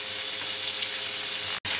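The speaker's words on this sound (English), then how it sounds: "That's my bacon sizzling nicely in the pan." Bacon fries in a pan, giving a steady, dense sizzle that carries on evenly and then cuts out for a split second before resuming.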